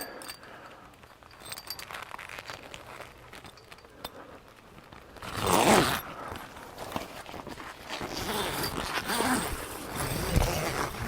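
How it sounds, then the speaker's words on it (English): A tent panel is zipped onto its frame with a zipper, a rasping burst heard near mid-clip followed by softer scraping, rustling fabric and handling noise. "we're going to zip it on first right here with this zipper right here"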